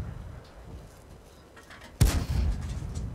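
A tank cannon in a video game fires premium ammunition, giving one sudden heavy boom partway through that follows quiet ambience and trails off into a rumbling tail.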